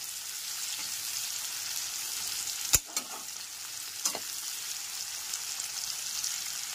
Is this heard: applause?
no